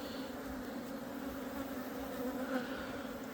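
Honeybees buzz around an open brood frame lifted from a hive, a continuous, even hum of many insects close by, faint and steady, with no voices.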